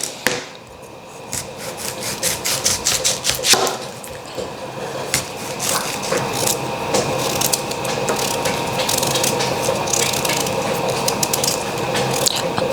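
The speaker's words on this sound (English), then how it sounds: "So I'm peeling the yam." A yam being peeled by hand with a knife, giving repeated close scraping and rasping strokes that continue steadily with no talking.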